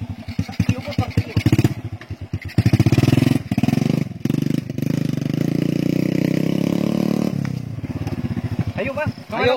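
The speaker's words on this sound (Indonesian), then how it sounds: "Wah, ieu teh motor." A small motorcycle used as an ojek taxi in a Sundanese comedy sketch starts up and idles loudly nearby, the putter rising and falling with brief revs, while people talk over it.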